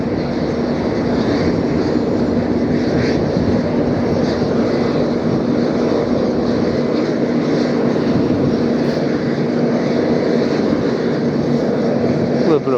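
Jet airliner 708NK rolls for takeoff in a gusty crosswind at Las Vegas, its engines producing a steady, loud roar with a sustained whine, continuous throughout, with wind noise and occasional voices.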